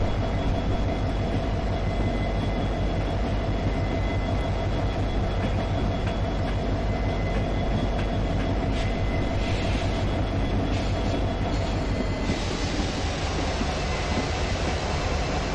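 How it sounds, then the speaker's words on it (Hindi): A train in an MSTS RailIndia route simulation, a Darjeeling Mail hauled by a WDP4B locomotive, rumbles steadily as it changes tracks, with a continuous loud rolling drone and a few faint clicks and squeals. "ये देखो गाइस हमारा ट्रेन ऐसा लग रहा है ट्रैक्स चेंज करते हुए"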